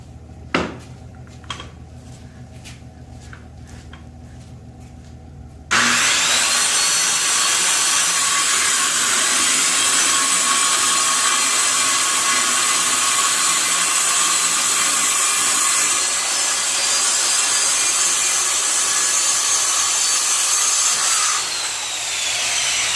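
A power saw cuts wood for a 25-quart snake rack, loud, steady and close for about seventeen seconds after a few faint knocks and handling sounds, then stops abruptly, with no talking.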